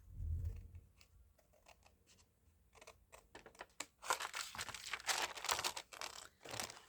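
Scissors trim a piece from a craft project, a quiet run of small crisp snips and rustles that grows busier and louder toward the end, heard close up with no talking.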